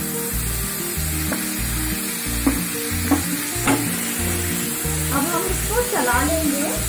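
Tomatoes dropped into a pan of browned garlic fry with a steady close sizzle, with stirring and a few clinks and scrapes of a spoon against the pan, for a tomato soup.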